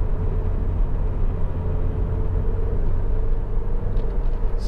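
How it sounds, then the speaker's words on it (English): A Honda Civic 1.8 i-VTEC EX hatchback pushed hard through a corner gives a steady, loud engine and road rumble from inside the cabin, droning evenly throughout with no talk. "So just going to push a little bit more through this corner just to show you."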